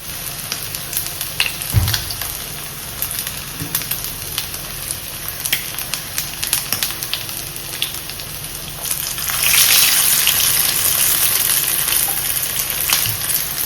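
Chicken vada patties fry in hot oil in a pan, a steady close crackling sizzle throughout that swells louder and brighter in the last few seconds as more patties go in, with a few soft clinks.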